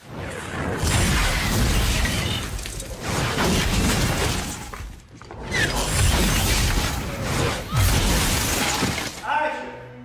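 Two long bursts of roaring, crashing blasts with debris shattering and rumbling, separated by a short lull; loud and close.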